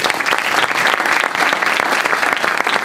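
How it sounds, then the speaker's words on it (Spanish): A live audience applauds two book presenters at an evening open-class book launch, a steady dense wash of clapping held for about three seconds with no talk over it. "deberíamos darle un gran aplauso a nuestros dos expositores"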